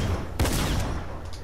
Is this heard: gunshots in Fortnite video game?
yes